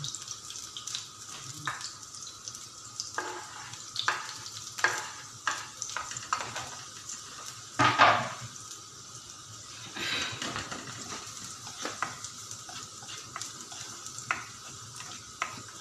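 Chopped onion and garlic fry in a pan with a steady, quiet sizzle, broken by intermittent spoon-stirring scrapes and a louder clatter midway.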